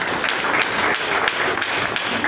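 A crowd applauding for Jesus at a prophetic church gathering, steady loud clapping that keeps on without a break.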